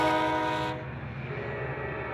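A commuter train's horn sounds loudly and briefly, then cuts off, leaving the steady rumble of the passing train.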